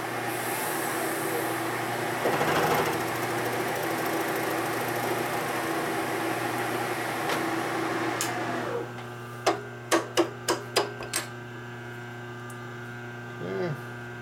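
A grinder works a custom metal bracket for a Harley, giving a steady, loud whine with a hum under it for about nine seconds. It then cuts off, and a quick run of sharp metallic taps follows.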